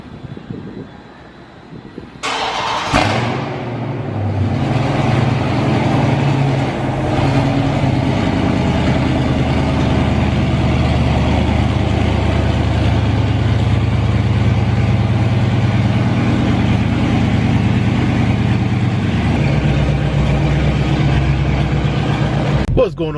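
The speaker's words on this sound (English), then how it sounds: "I had to let the car quiet down a little bit before I could start talking, man, because damn, she was loud" A Dodge Charger Scat Pack starts with a sudden loud roar, then settles into a deep, steady, rumbling idle that fills the rest of the time, close and loud.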